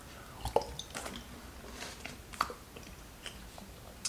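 Peanuts being chewed up close in a quiet setting, with irregular soft crunches and moist squishy bites spread over a few seconds, faint and intimate, no talking.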